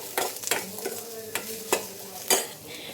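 Pasta cooks in a pan over a low flame, with a few distinct scraping stirs of a utensil against the pan above a soft, steady sizzle.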